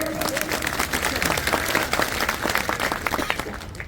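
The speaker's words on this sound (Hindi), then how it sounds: "अरे बजाओ ताली मेरी महिलाओं के लिए, आप पीछे से भी बजाओ ताली।" Rally crowd at a Viksit Bharat Sankalp Yatra thanksgiving gathering in Lahar claps steadily and densely throughout, a continuous wash of many hands at moderate loudness with faint voices mixed in.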